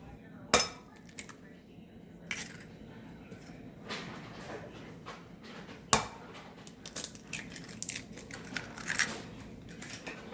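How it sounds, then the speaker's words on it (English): Eggs and ricotta cheese are stirred in a bowl with a utensil, producing sporadic clinks and scrapes against the bowl's side, sharp taps standing out over soft wet mixing, fairly close and quiet. "Now let's put in the eggs and the ricotta cheese and get it all mixed up"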